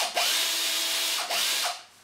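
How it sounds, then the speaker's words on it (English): A power drill boring a single hole in a hinge while building a line bending machine, whining steadily at high speed for over a second, briefly revving down and back up, then tapering off near the end; loud and close, no talk. "Then we can use the insighting drill just to drill one hole."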